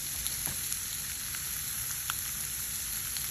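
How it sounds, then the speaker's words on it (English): Spiced chicken sizzling in a grill pan, a steady soft frying hiss with scattered small pops and crackles, close but quiet, no voices. "now that we have our chicken in the grill pan grilling and getting all happy with the spices"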